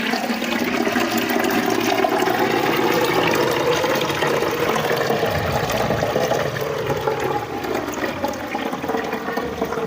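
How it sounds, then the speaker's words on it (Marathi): Soaked wheat liquid for kurdai strained through cotton cloth, a steady, loud rush of pouring and trickling liquid that runs without pause the whole time, with no talk. "आता ही गाळून घेणार आहे मी थोडं थोडं करून"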